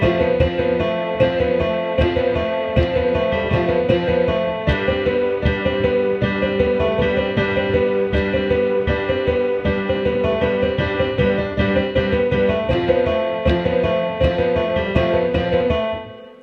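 The famous theme from the 1954 Gojira film played on piano, with steady, heavy repeated chords and a melody line, loud and continuous with no talking.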